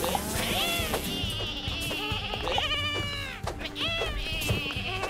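Sheep bleat in the game Lumberhill, several wavering cries overlapping amid busy game music and clatter, fairly close and prominent.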